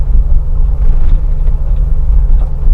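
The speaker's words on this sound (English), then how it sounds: "driving the G Wagon is" Mercedes-Benz G-Wagon being driven, heard from inside as a loud steady low engine and road rumble with no other sounds.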